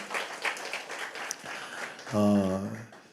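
A church congregation at a summer family retreat gives a short round of applause, mixed with talk and ending in a loud tonal swell.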